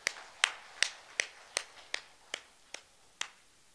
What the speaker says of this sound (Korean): 하나님께 박수를 드릴 거예요.